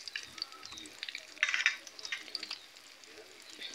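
Bay leaves and ripe red chillies stirred in hot oil in a pan, a faint close crackle and sizzle with scattered scraping and a small burst of spattering midway.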